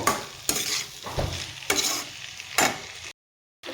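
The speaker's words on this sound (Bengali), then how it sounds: "মশলাটার সাথে আমি মটরশুঁটির সাথে ভালোভাবে আমি কষিয়ে নেব" Green peas with spice paste and chopped chilli are sautéed in a pan, a soft steady sizzle broken by four distinct spatula scrapes at regular intervals, then sudden silence.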